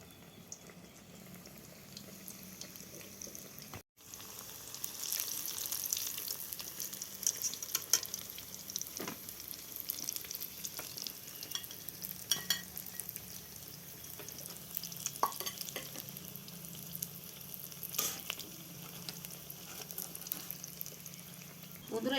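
Fish fries in hot oil with a continuous crackling sizzle that cuts out briefly near the start, then returns moderately loud and steady, with occasional stirring clinks.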